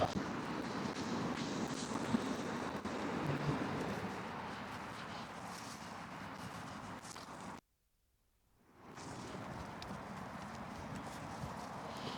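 A horse walks slowly and calmly, with hooves clip-clopping steadily in a continuous soft, even rhythm over outdoor ambience, broken by a brief silent gap before the steps resume.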